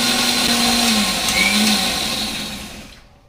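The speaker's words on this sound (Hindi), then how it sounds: "and let us again mix it right in the mixie, and let us rotate it" A mixer grinder blends coconut cream and water, a loud steady high-pitched whirring motor that runs then winds down and stops near the end.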